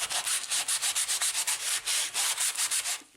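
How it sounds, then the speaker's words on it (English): Sandpaper rubbed over the slick back of a canvas craft piece in quick, even back-and-forth strokes, a close, steady rasping rhythm with no talking. "give this a quick sand and scratch it up just a little bit to give it some tooth."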